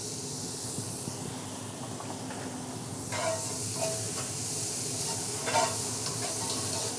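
Tomatoes, garlic and shallots sauté in leftover oil in a cast iron pan: a steady close sizzle and hiss, joined partway through by scraping stirs of a utensil against the pan, with no talking.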